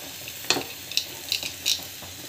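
A potato dish bubbles in a pot on the stove, giving a steady hissing simmer with a few sharper bubbling pops and spoon clinks standing out.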